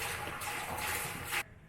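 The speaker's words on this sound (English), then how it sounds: "first thing is I want you to add 3 gallons of water in here" Water pours steadily into a beer brewing pot, a close, loud continuous gush lasting over a second before cutting off abruptly.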